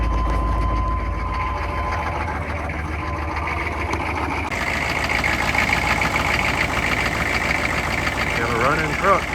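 A Chevy C3500 service truck with a 6.5 turbo diesel engine runs at a steady, loud, close idle, a dense rumbling clatter that thickens partway through and continues without a break.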